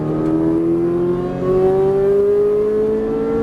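A Ferrari 458 Italia V8 under heavy throttle, a loud close engine note climbing steadily in pitch for a few seconds with a smooth rising whine and no talk.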